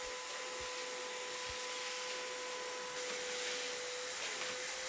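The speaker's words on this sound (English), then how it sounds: "I started by giving it a really good vacuum." A vacuum cleaner drones steadily with a constant hissing whine, close and continuous, with a faint bump or two, as it cleans a textured fabric upholstered chair.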